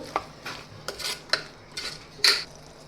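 Spoon stirring dudhi (bottle gourd) with a pinch of garam masala and sugar in hot oil, giving a series of light metallic scrapes and clinks against the pan, close and fairly quiet, with no talking.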